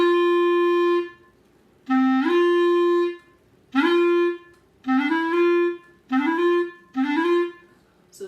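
A wind instrument plays a run of sustained tones, each starting on low D and sliding quickly up to G, five or six repeats separated by short pauses, clear and close with no talk.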